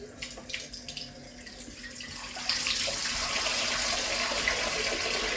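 A few soft clinks, then a tap turns on and water runs steadily into a sink, close and continuous.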